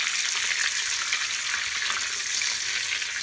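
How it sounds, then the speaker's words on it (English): Mushrooms deep frying in oil, a dense, loud, continuous hissing sizzle heard up close and alone. "deep frying the mushrooms"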